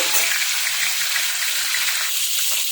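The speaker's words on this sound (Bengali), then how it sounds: "মাছের মাথাটা ফ্রাই হয়ে গেছে" A fish head fries in mustard oil in a wok, giving a loud, continuous, close sizzling hiss with a bubbly, watery texture.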